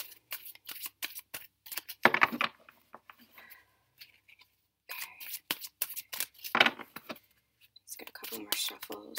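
Tarot cards being shuffled in bursts of soft riffling and flicking, with quiet pauses between handfuls; the shuffling sounds close and moderately loud.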